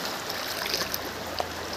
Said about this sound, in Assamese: ইফালে পুৰা ধাৰ বহি আছে ধাৰ বৈ পানী আহি আছে